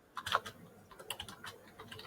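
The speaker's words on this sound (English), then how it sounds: "I was just typing that out" Quiet, irregular clicks of fingers typing on a computer keyboard, a few quick keystrokes at a time with short pauses between, with no voices.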